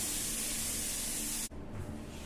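Chicken keema with green peas cooking in a pan gives a loud, steady hiss of sizzling, cut by a brief break, after which a softer, duller sizzle continues.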